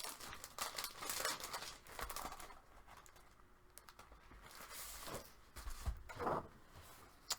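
A sheet of craft paper rustles and crinkles as it is handled, soft scattered crackles close by that come and go in several bursts.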